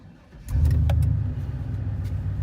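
An old tow truck engine cranks and fires up close by, settling into a steady, loud low rumble at idle.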